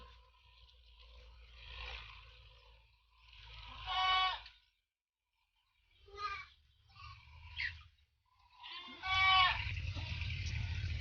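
Goats on a rural farm let out a few loud, wavering bleats in separate bursts, with quiet gaps and some low rustling and handling noise between them.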